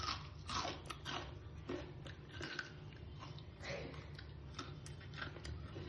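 Crunchy bites and chewing of a homemade corn snack, several crisp crackling bursts close to the mic over a steady low background hum, with no talk.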